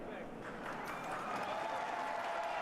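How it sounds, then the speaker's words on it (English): Crowd applause and cheering fill an arena after a shot in a USA versus China wheelchair curling round-robin game at the Sochi 2014 Paralympic Winter Games, a steady broad wash of clapping that swells slightly toward the end. "And the crowd cheering for that too."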